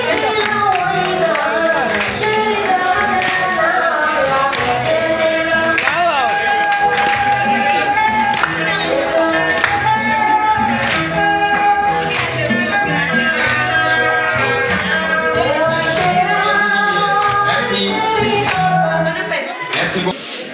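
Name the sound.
applause at a graduation ceremony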